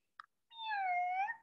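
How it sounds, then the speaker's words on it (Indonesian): A single cat meow from a children's sound audio book, drawn out and faint, preceded by a brief click. "Oh, ini suara kucing."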